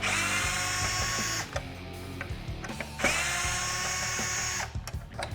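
A power driver whirs loudly in two long runs while backing out two Phillips screws near the blind spot sensor on a Jeep Wrangler JL, with clicks and handling noises between.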